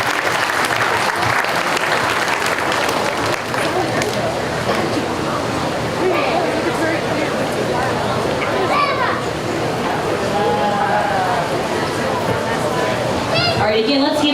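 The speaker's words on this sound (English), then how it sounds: "Let's put our hands together for that class." Spectators at a county fair lamb show applaud continuously around the show ring, with steady clapping mixed with children's voices and nearby talk throughout.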